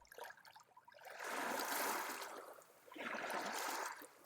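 Ocean waves rolling in twice, each swelling into a broad, soft wash of surf before fading, steady and moderately distant with no voices.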